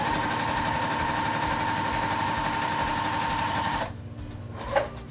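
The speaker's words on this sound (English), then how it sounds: "sew it off the edge here" Sewing machine stitching jelly roll quilt strips, a steady loud rapid mechanical whir that runs for about four seconds and then stops abruptly, followed by a brief small handling clunk.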